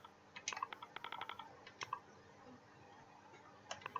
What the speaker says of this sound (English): I'm going to type in World of Tanks